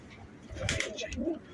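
A short, soft cooing from a racing pigeon close by, a low throaty murmur lasting about a second, with faint background noise.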